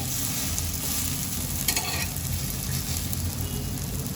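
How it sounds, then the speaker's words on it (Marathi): Chopped onion for an egg omelette fries in a hot pan on a high gas flame, giving a steady, close sizzle and crackle with faint stirring throughout. "दुसऱ्या बाजूनी देखील मी दोन मिनिटापर्यंत चांगलं याला तळून घेते"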